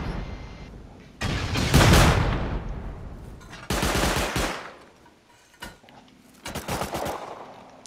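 Turret gunfire during a video game raid, loud bursts of rapid automatic shots in several waves with short quieter gaps between them.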